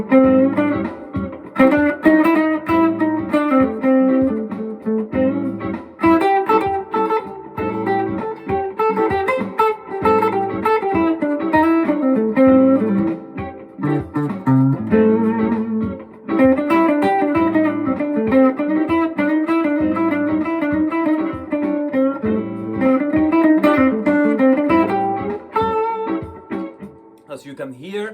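An electric guitar plays a minor pentatonic blues scale with the blue note, single notes picked steadily up and down, clear and unaccompanied.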